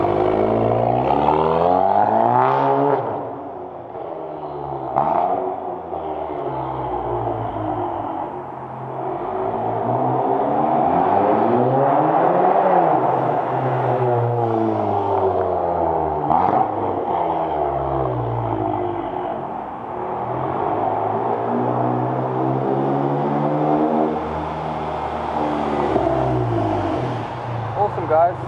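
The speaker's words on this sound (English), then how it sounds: "so the exhaust sounds awesome on the car" Volkswagen Golf GTI Mk7.5 with Valvetronic exhaust, valves open, revved repeatedly: loud rising and falling engine sweeps with a deep rumbling exhaust note, sustained for nearly half a minute with no talking.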